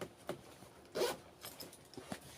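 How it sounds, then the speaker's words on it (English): A zipper is pulled along a fabric sewing machine bag at close range, several quick scratchy runs with one longer louder pull, and no talk over it. "4 corners have got the zippers."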